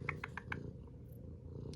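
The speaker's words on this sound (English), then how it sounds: "Good kitty." A small cat purrs softly and close up, a low continuous rumble broken by a few brief higher squeaks near the start.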